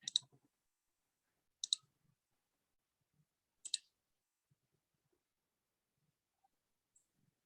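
Computer mouse clicking during an online meeting, three sharp isolated clicks spaced about two seconds apart in near silence.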